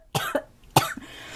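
Two sharp, close coughs from a person indoors, the second louder, each a short burst followed by brief quiet.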